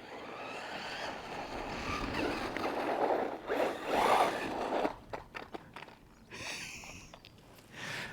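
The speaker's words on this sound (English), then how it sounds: "Wheel spinning" The Bezgar HP141 RC car's wheels spin up on tarmac with a high whirring, zipping whine that rises and falls over several seconds, then breaks into shorter bursts, heard close by without talk.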